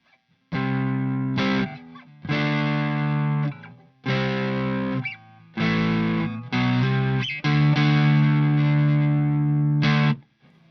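Overdriven electric guitar strums six separate chords, each ringing for a second or so before cutting off, loud and close with brief gaps between.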